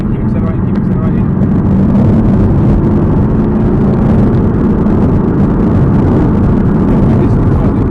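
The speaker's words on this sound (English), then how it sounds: "Start to accelerate now so we make most of any advantage way to take." A 2013 Aston Martin V8 accelerates hard along a race track straight, its engine a steady, loud drone held at close range throughout, with a voice talking over it.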